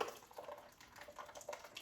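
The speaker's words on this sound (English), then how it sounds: "we got our chicken, we're gonna pour our sauce in" Faint, soft liquid trickling and dripping as sauce is poured over chicken for a marinade, with small splashy bursts spread across a short moment.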